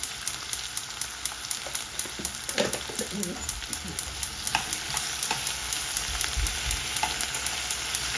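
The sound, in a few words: stirring tomato rice with turmeric in a pan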